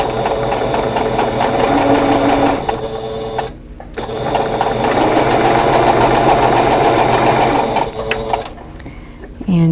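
A sewing machine stitches down the side of a quilt block, running in steady loud bursts with a brief pause in between and a stop near the end.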